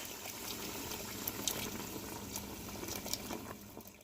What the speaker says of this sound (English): Now we'll pour in our rabbit stock